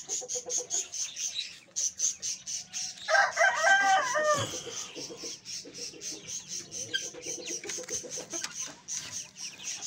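Aseel chickens of the Mairi breed, broody hens among them, cluck in a steady rhythmic chatter nearby while a rooster lets out one loud crow partway through, with no voices.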